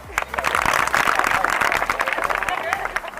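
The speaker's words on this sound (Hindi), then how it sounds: "इसके लिए तालियां" An indoor audience at a talk on human rights and mental health bursts into dense, loud applause that stays steady for a few seconds, with crowd murmur underneath.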